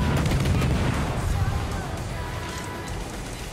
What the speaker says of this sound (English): Bro, why are you shooting at me?